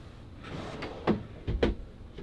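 Large storage drawers in an RV at a trade show slide open and shut with a few brief thumps and rattles against a busy hall background.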